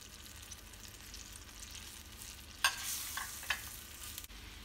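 Chicken simmers in a pan with added water, sugar and a little salt, giving a steady low sizzle with a few sharp stirring scrapes and clinks partway through, close and without talk.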